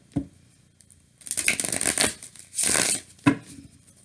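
An old Rider-Waite tarot deck is shuffled loudly for reversals, giving a quick tap, then two bursts of riffling card noise and a final soft knock, close and with no talking.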